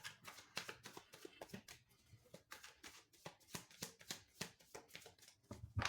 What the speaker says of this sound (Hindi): तो मैं आपके सामने यहाँ पे शफल करूँगी